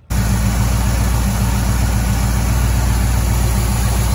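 A 1984 Camaro Z28 V8 idling, loud and close, a steady rumble that starts abruptly and holds even for the whole stretch.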